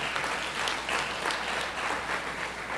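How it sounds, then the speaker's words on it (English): A town hall audience applauds, a steady wash of many hands clapping at moderate distance, even and sustained with no talk over it. "Give yourselves a great round of applause for coming out tonight."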